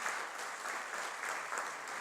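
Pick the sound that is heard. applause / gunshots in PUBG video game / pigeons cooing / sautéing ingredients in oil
applause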